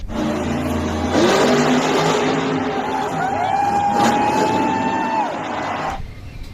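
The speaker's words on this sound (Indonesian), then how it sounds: "Truk monster." Monster truck engine sound in a toy truck video: a loud revving roar with rising and falling whine that swells, holds for several seconds, then cuts off abruptly.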